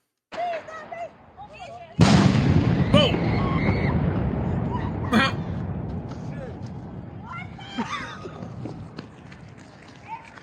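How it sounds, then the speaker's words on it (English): An enormous firecracker in Spain goes off with a sudden loud blast, followed by a long rumbling roar and scattered crackling bangs, while people shout and talk nearby. "this is the world's largest firecracker in Spain."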